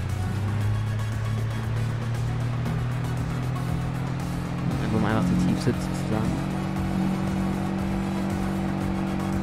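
A VW Golf GTI drives in Landwirtschafts-Simulator 22 with a steady engine drone and tire noise throughout, while someone talks over it.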